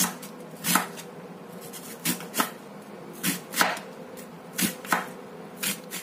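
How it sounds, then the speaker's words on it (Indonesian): A knife cuts a large onion on a board while a fish dish is being prepared. About ten sharp, close taps come at an uneven, unhurried pace over quiet kitchen background, with no talking. "Terus bawang bombaynya ini kita potong seperti ini aja."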